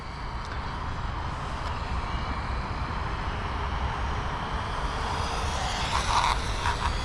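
A Losi Promoto-MX RC motorcycle rides at slow speed outdoors, making a steady, droning motor whine with broad rushing noise that holds even and fairly loud, swelling slightly toward the end.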